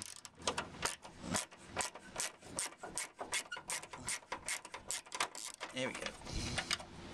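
Bolt on the front grille of a Land Rover Defender being wound out with a hand tool, giving close, repeated scraping and ratcheting rasps in an uneven rhythm, with occasional speech nearby.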